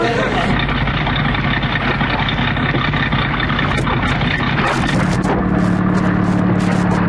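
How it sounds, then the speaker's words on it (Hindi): A motorboat's emergency engine is started as a radio drama sound effect, giving a loud, continuous engine roar with a steady low hum that settles into a running drone. "इंजन चालू हो गया।"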